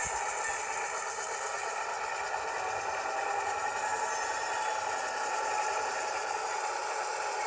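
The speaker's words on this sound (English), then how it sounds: "this camera tends to pick up that engine sound pretty loud" A train locomotive engine idles in an interchange yard, a steady, moderately quiet rumble with a broad even hum and no break throughout.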